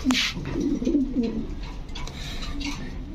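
A female pigeon coos in a pigeon seller's stock, with a throaty burbling run early on that fades to softer, intermittent cooing against faint background noise.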